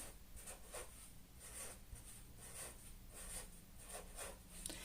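A pen or marker writing numbers on a board during a math lesson, heard as faint, rhythmic scratching strokes that come in short repeated bursts, very quiet throughout.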